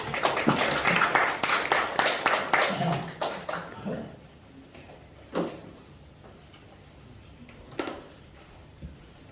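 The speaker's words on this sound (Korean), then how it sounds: "박수 맞이해 주시죠." An audience claps to welcome a village head stepping up to present, a dense burst of applause that thins out after a few seconds into scattered faint claps and small knocks in a quiet hall.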